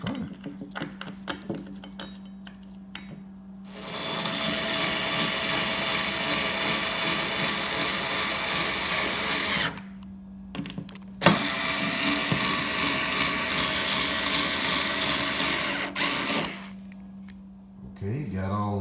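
A power drill drives screws into a subwoofer pole insert on an Alto TS318s, two long steady whirring runs close by, separated by a short pause, with brief clicks and a voice before and after.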